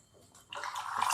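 Water squeezed by hand out of soaked soya chunks, a brief wet trickle and splatter that swells from quiet to steady within about a second, close by and alone.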